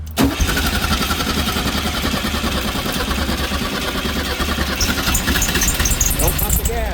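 A freshly restored 1969 Volkswagen Karmann Ghia with a rebuilt engine cranks and fires up, then settles into a loud, close, steady idle with a rough knocking rhythm while people talk nearby.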